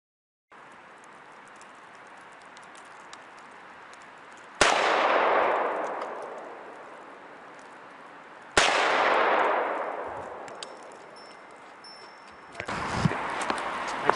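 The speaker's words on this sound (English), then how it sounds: "So I just sent 2 shots at it with the AR" Two sharp, loud AR rifle shots ring out outdoors a few seconds apart, each striking a steel armor plate target with a ringing impact that decays slowly, followed by faint clatter.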